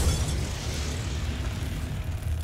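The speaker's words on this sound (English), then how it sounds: "Oh, so this starts the fire." A fire igniting in the horror video game The Beast Inside, heard as a low, rumbling whoosh that swells at once and holds as a steady roaring burn, loud and close with no talking.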